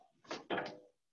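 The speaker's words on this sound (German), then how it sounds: "ich mache die Tür zu" An indoor door being pushed shut in a quiet room, heard as a short two-part thud and rattle up close, with no talking over it.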